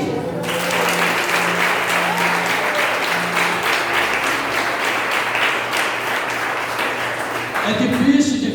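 A church congregation applauds loudly and steadily at a women's congress, sustained dense clapping that continues for several seconds before tapering off.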